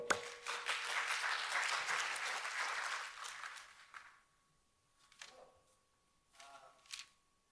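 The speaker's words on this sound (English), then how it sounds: "Let us welcome them with a warm clap." A live audience at EON Experience Fest 2023 in Singapore breaks into loud, dense applause for about four seconds. It then quickly fades to a hushed room with a few scattered, fainter claps.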